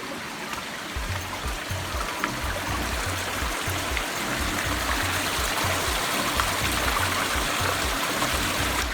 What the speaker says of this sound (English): You can hear it running through the woods